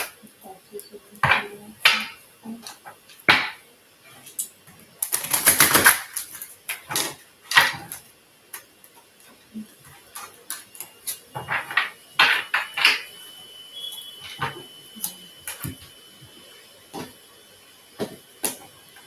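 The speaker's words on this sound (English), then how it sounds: "Two more shuffles." Tarot cards shuffled by hand in a series of crisp riffling bursts and taps, one long dense flurry in the middle, close and moderately loud, with occasional soft talk between shuffles.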